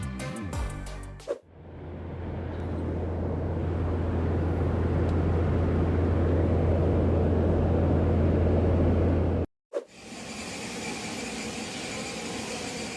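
A propeller plane takes off, a sustained loud roar with a steady low tone building for several seconds, cut off abruptly and followed by a different loud passage.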